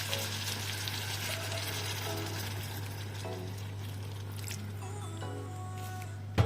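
Steady hiss and crackle of water sizzling in a hot pan, continuous throughout, with a steady low hum underneath and a clatter at the very end.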